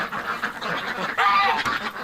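Ducks on a cold winter day, a short burst of nasal quacking and honking calls at close range, busy and overlapping with no pause between them.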